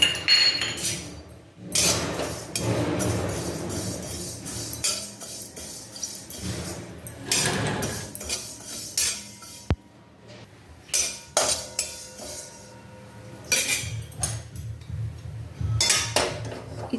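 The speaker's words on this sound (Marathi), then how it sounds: "तर इथे आपण तीळ भाजून घेणार आहोत।" Sesame seeds roast in a pan for a mixed vegetable dish, with repeated metallic scraping and clinking from stirring. The sounds come in uneven bursts, loud and close.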